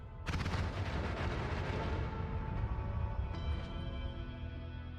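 Explosive projectiles detonating in the video game Noita: a sudden blast sets off a dense, continuous stretch of rumbling, crackling explosions that slowly thin out, fairly quiet overall.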